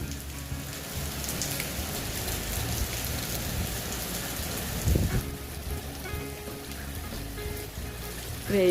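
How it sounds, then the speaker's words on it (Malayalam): Steady rain pours in the evening, a dense even hiss of drops on surfaces with a low rumble underneath, near and continuous for the whole stretch with no talk. "വൈകുന്നേരം ആയപ്പോഴും മഴ പെയ്തുകൊണ്ടേ ഇരിക്കുകയാണ്"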